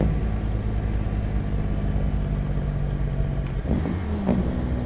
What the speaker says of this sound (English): I like the Jake brake on this truck. It's pretty mellow.